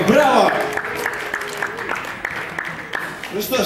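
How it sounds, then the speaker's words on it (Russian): Applause from a stadium audience of football fans at a Football Day show, a steady patter of clapping that rises and fades over a few seconds beneath a voice speaking over it. "Если у нас такие болельщики, аплодисменты!"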